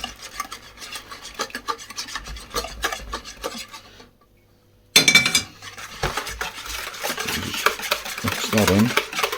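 A whisk beats custard for a trifle with steady, raspy scraping against the bowl that stops for a moment and then resumes more vigorously, close up, with brief talk over it.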